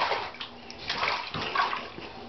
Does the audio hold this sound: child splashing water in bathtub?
yes